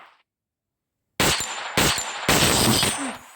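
Three loud bursts of automatic gunfire from Free Fire MAX gameplay, each a rapid close volley, following a near-silent pause.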